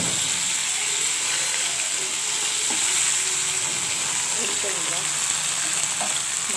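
Bata fish frying in a pan gives a steady, loud sizzle that holds through the whole stretch, with faint scrapes and stirring knocks on top and no talking.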